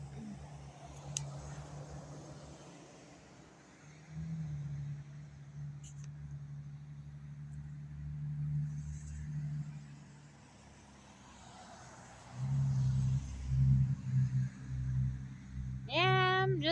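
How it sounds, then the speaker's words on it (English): Cars driving past a front yard at night: a low engine rumble rises and fades around the middle, then a louder vehicle surges by near the end, with a faint whisper-like voice early on. "Noisy cars I want to drive by."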